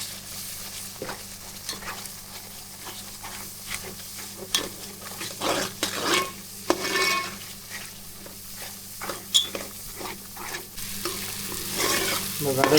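A fish curry masala mixture cooks in oil in a pan, with a soft steady sizzle broken by repeated scraping stirs and clinks of a spoon.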